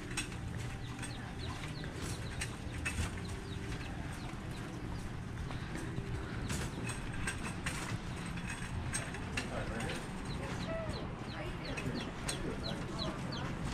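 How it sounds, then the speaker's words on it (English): Twenty-two newly acquired farm chickens cluck and murmur in a crowded, steady chorus, with scattered scratching and shuffling and occasional rattling of a cage or mechanism, at moderate distance throughout. "All right, guys, so we got 22 chickens."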